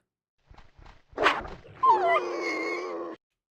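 A creature's dying call in the video game Asheron's Call, a short sad whimpering cry: a few soft yelps, then a sustained, wavering whine that trails off after about a second.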